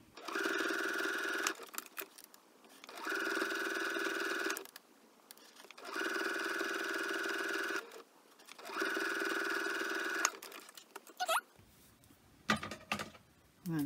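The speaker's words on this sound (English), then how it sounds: "And I'm going to sew." A sewing machine stitches along the edge of handmade bias tape while finishing a cross-stitch stocking, running in four steady, even bursts with short pauses between, followed by brief handling clatter.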